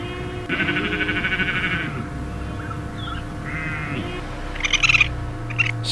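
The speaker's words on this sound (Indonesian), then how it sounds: "sheep, domba" Sheep bleat in several wavering calls, the first long and steady, then shorter broken ones, with a sharper cry near the end over a steady low background hum.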